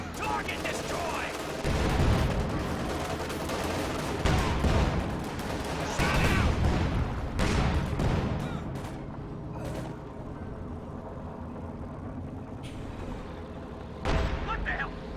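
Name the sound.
flak panzer firing in Company of Heroes 2 video game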